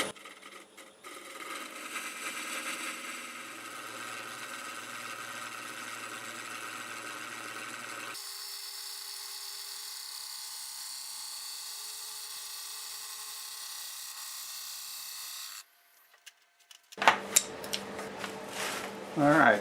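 A wood lathe spins a large tumbling block bowl blank at about 600 RPM, giving a steady, moderately quiet mechanical hum that shifts in tone partway through, stops, then gives way to brief louder clattering.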